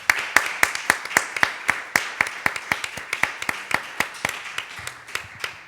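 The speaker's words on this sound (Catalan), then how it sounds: "Demano un fort aplaudiment per la Marta i per al Salva." An audience applauds two speakers after a talk on housing rights, a steady burst of clapping from many hands that continues throughout, sharp and fairly close.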